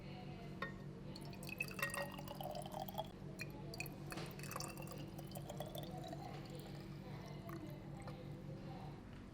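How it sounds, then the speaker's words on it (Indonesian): Seawater poured into glass bottles for microalgae culture gives faint, scattered drips, splashes and glassy clinks over a quiet background. "ini ada air laut yang akan kita tuangkan ke dalam botol-botol ini"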